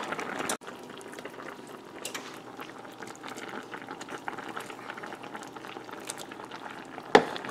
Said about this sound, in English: Just let that simmer for a couple more minutes